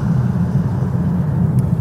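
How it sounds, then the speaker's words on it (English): Nissan GT-R Nismo's 24-valve V6 producing 600 horsepower, a steady loud low rumble sustained throughout with no pauses and no talk over it. "That thundering 24-valve V6 here generates 600 horsepower."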